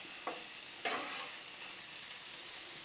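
Shrimp and sausage cook on a Blackstone griddle, giving a steady close hiss of sizzling with two brief scraping or stirring bursts near the start, and no voices.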